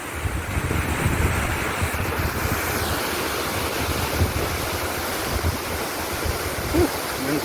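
Steady wind roars across the microphone with waves washing onto the Lake Michigan shore near Ludington's dunes, a continuous loud rush with no clear breaks.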